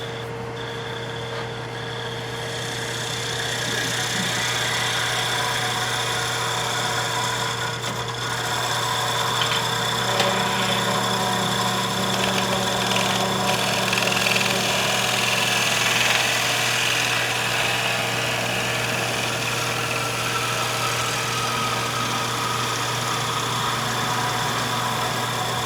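Wood lathe spinning a bowl while a long-handled bowl gouge cuts across the bowl bottom, giving a loud, continuous motor hum with a steady, rough cutting hiss layered over it.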